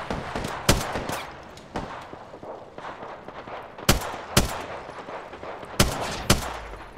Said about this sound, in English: Where are those shots fighting at?